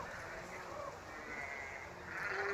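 Sheep bleating in a field where lambs are grazing in Lincoln, California, several overlapping calls at moderate distance over a constant outdoor hum, with people talking faintly.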